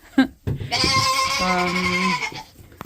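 A farm goat lets out one long, loud wavering bleat close by, preceded by a short grunt and rustling in a pen during breeding season.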